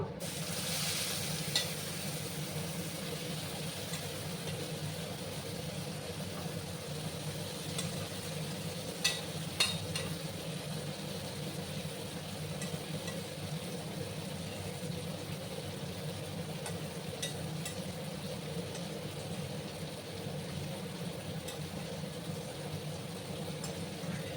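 Masoor lentils being stirred in a pan, a steady low sizzle with faint scraping throughout and a few brief sharper clinks, no talking.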